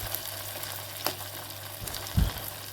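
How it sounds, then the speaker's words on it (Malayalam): Leftover rice pieces frying in hot oil in a pan, a soft steady sizzle with a brief louder crackle near the end as more bits drop in. "അങ്ങനെ ഓരോ നുള്ളങ്ങനെ ചട്ടിക്കിട്ടു"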